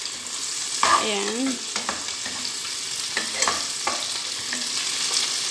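Mushrooms with tomato sautéing and sizzling in a pan while being stirred, a steady broadband frying hiss with scattered clinks and scrapes of the utensil, close and moderately loud, with a brief spoken word near the start.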